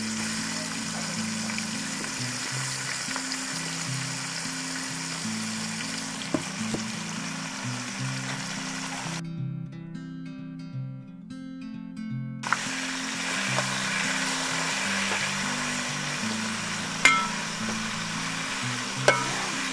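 Fish sizzles steadily in hot oil for a fish pickle, with a dense crackling hiss under background music. The frying drops out for a few seconds midway, then returns.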